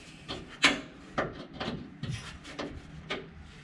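Loosening a 3/8 square drum plug on a 1966 Ford Mustang 2+2 fastback fuel tank: a series of close, short scraping and rubbing creaks in irregular bursts, with no talk.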